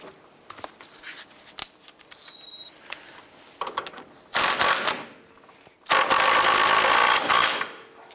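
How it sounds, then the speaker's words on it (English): A ratchet tightens the outer tie rod nut on a 2002-2007 Jeep Liberty, making bursts of rapid clicking that grow louder and denser toward the end, with softer handling noises between them and no talking. "Let's go ahead and tighten that nut down."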